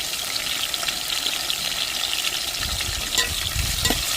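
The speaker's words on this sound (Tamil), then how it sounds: "தக்காளி, வெங்காயம், பச்சை மிளகாய் எண்ணெயிலே நல்லா வதங்கி வந்துருச்சு" Onion, tomato and green chilli fry and sizzle in hot oil for a fish curry masala, a close, steady crackle with occasional stirring scrapes near the end.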